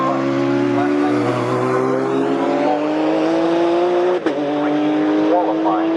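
Race cars, including a Caterham Superlight, scream at high revs at Snetterton, with engine pitch sliding through gear changes and a brief sharp break, loud and close under excited commentary.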